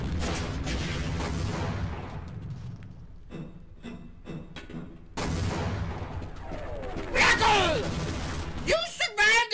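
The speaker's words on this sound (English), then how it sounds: "You survived the rocket launcher to the face?" Rocket launcher explosions in the video game Half-Life, heavy booming blasts with rumbling gunfire-like bursts in two loud stretches, a quieter gap between, and a voice talking over the later chaos.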